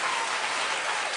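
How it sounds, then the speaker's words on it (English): Loud, dense studio audience applause at a daytime talk show, a continuous patter of many clapping hands with no pause or voices. "Everyone keep clapping"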